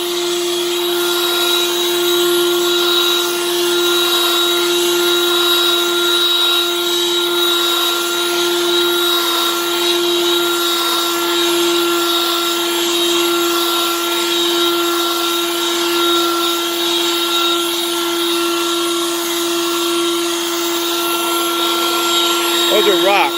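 Harbor Freight Lynxx 40 volt cordless leaf blower running nonstop, a loud, steady airy rush with a high electric whine and humming tones held at one level throughout, close by.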